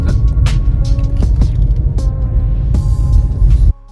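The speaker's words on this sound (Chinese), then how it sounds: "这个就轮胎声" Tires of a Volkswagen Golf rolling over a parking-lot road, heard from inside the cabin as a loud continuous low rumble with scattered knocks and thumps, ending abruptly.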